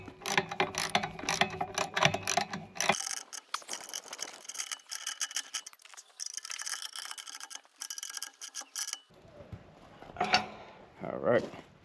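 Ratchet wrench tightening nuts on an old rusty sawmill, giving repeated metallic clicking and mechanical rattles up close, with a quieter stretch in the middle and a few louder clanks near the end.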